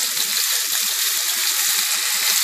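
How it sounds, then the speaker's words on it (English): Dried-out, already cooked broccoli sautés in hot rendered duck fat, giving a loud, dense, continuous sizzle close up with small bubbling crackles throughout. "we're going to dump our now dried out broccoli into it."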